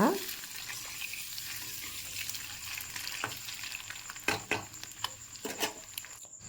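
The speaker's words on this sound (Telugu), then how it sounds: "ఫ్రై చేసి గోల్డెన్ కలర్ వచ్చే వరకు ఎగ్స్ని ఫ్రై చేసి పెట్టుకొని పక్కన పెట్టుకుంటాను" Eggs sizzle steadily in a hot pan, a soft continuous hiss with occasional clinks and scraping stirs near the end.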